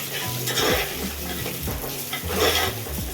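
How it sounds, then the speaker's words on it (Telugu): Moong dal fries in oil in a pan and is stirred now and then, a steady close sizzle punctuated by scraping stirs and light clinks of the utensil. "ఒక్కసారి కొద్దిగా ఆయిల్లో పప్పుని మగ్గనివ్వాలి, కొద్దిగా ఫ్రై కావాలి."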